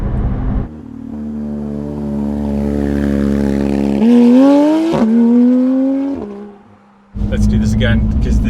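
A Porsche GT3 RS accelerates hard from a low launch, its engine note climbing loud and harmonic-rich through rising revs with a gear change, then cutting out before resuming; speech is mixed in.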